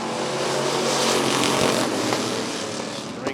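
Race cars in a AAA bracket last-chance race at Rockford Speedway roar off together at the start, a loud sustained wall of engine noise that swells and then eases slightly.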